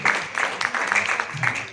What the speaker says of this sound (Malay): Okay, satu tepukan untuk Diamond Noah